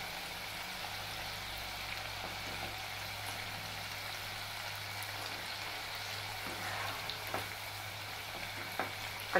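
Sweet pumpkin pakoras, made with a flour batter, fry steadily in hot oil with a continuous, even sizzle and occasional small pops, fairly quiet and close, with no talking.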